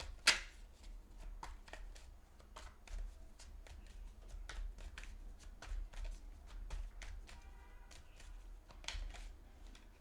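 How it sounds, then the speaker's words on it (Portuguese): A deck of cards is shuffled by hand for a card reading, giving a quick run of close, soft riffling flutters and light taps in a quiet room. "Ok, vamos cortar o baralho."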